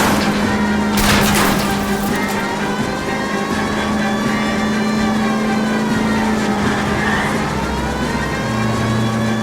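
A car's engine roars steadily and loudly through a high-speed chase in the L.A. Noire video game, its pitch rising and shifting as it accelerates.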